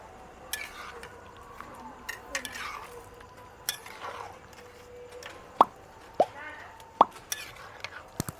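Chicken curry with garam masala being stirred in a pot, a spoon clinking and tapping the metal several times, with a few sharp louder knocks near the end, in a quiet kitchen with no talk.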